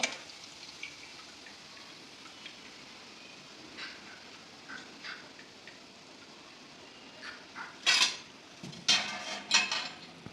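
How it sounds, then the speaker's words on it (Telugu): Bobbari pappu garelu, cowpea lentil fritters, frying in a pan and being turned until golden: a faint, steady sizzle, with a few sharper utensil clinks and scrapes near the end. "రెండు వైపులా తిప్పుకుంటూ గోల్డెన్ కలర్ వచ్చే వరకు వేయించుకోవాలి"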